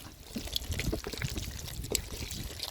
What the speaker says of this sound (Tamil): தேன் ஊற்றிக்கிறோம்